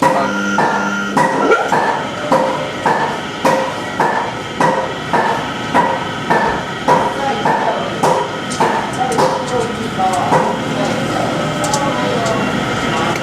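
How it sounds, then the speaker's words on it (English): A gold rolling machine in a gold shop clanks in a steady repeating rhythm, loud and mechanical, with regular metallic thumps about twice a second over a running motor. "This is the rolling machine."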